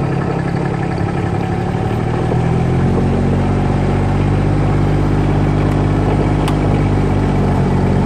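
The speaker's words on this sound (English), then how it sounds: "As you can see, here comes another tractor trailer." A tractor-trailer catch truck rolls in at a chicken farm on catch day, its diesel engine a loud, steady, close rumble that grows and then holds.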